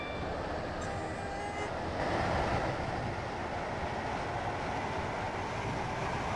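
Train running in the Roblox game Stepford County Railway on a Waterline service, a steady, dense rolling rumble with constant hiss that swells slightly partway through, no voices.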